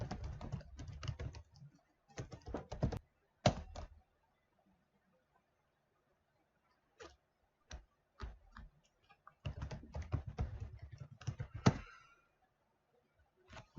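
Login credentials being typed on a computer keyboard: quiet bursts of rapid key clicks in short clusters, separated by silent pauses and a few isolated taps, close and without talk.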